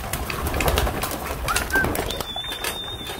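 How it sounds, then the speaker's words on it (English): Pigeons arrive at a backyard loft with an aviary floor grating, their wings fluttering in short bursts close by, along with light bird calls and a thin whistle. "Here come the last of the birds now."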